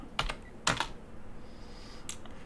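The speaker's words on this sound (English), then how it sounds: "Just by typing" Computer keyboard typing while calling up the auction house window in City of Heroes: a few quick clustered key clicks, a longer burst, then a single late tap, close and clear over faint room hiss.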